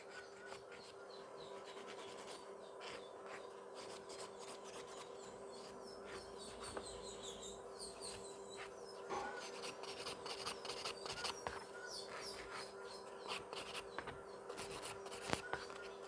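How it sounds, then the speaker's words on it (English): A nail file rasps against fingernails in quick, quiet, repeated strokes. The scratchy rhythm runs steadily under a faint constant hum, close to the microphone, with no talking. "this hand is almost done with the filing"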